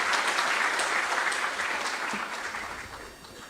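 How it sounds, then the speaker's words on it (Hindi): Audience applause at a medical officers' appointment letter ceremony in Dehradun, a loud, dense crowd clapping that holds steady and then gradually fades toward the end. "सभी चिकित्सा अधिकारियों का जोरदार तालियां बजाकर सबका उत्साहवर्धन करें"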